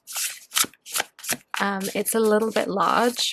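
A Curious Cats tarot deck is overhand shuffled with a few quick card slaps followed by a rapid, close riffling flutter, while someone speaks over the later part.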